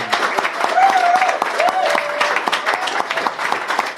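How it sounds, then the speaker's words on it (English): Live podcast audience applauds a guest from Mars Nation in a hall: steady clapping of a modest crowd throughout, close and fairly loud, with a few vocal tones mixed in. "big round of applause for Alicia from Mars Nation"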